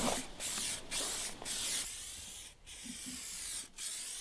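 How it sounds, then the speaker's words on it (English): Hissing bursts of an aerosol spray paint can onto a car, several short sprays separated by brief pauses, close and fairly loud. "Literally spray itself all over the front of your vehicle."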